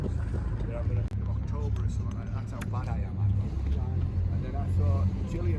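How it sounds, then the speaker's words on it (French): Small boat motor pushing out of a Mediterranean harbour, a steady low engine drone under constant talk and wind, continuous throughout. "Donc le petit moteur pour sortir du port"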